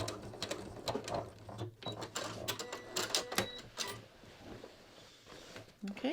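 A sewing machine topstitches up the center front edge of ready-to-wear jeans in short, quiet bursts of rapid mechanical stitching, with brief pauses and faint handling noises between runs.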